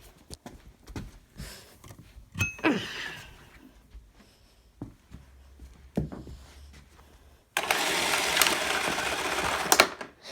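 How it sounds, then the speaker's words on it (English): A Hoover Elite Rewind Deluxe vacuum's cord rewinds: a steady mechanical whir kicks in after several faint clicks and rustles, running loud and continuous for a few seconds before cutting off. "I can demonstrate the cord rewind."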